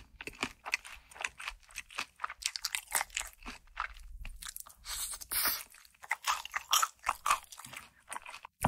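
Crunchy bites and chewing of deep-fried chicken feet in a close-miked eating session, with dense repeated crackling crunches and wet mouth sounds, no talking.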